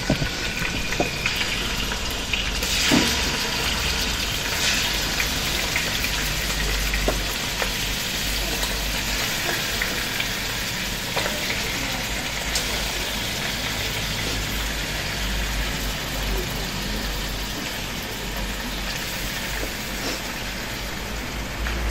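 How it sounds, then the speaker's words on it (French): Pieces of food frying in hot oil, a continuous dense crackling sizzle that holds steady and loud throughout, with occasional sharper pops and a low rumbling hum underneath. "Oui, l'huile est chaude. Notre huile est chaude."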